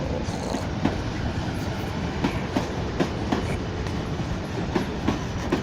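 An electric passenger train rumbles past nearby at Clapham Junction, its wheels clicking rhythmically over rail joints in a steady, loud, continuous run.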